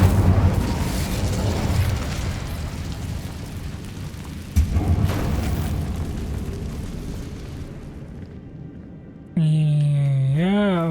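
Incendio fire spell bursting in Hogwarts Legacy, a loud roaring blast that rumbles on and fades, with a second boom midway, followed by a short bright magical tone near the end.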